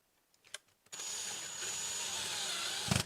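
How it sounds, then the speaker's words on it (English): A power drill pre-drilling holes for a dryer vent connector whirs steadily for a couple of seconds after a few faint handling clicks, loud and close, with a brief thump near the end. "I always like to pre-drill my holes though"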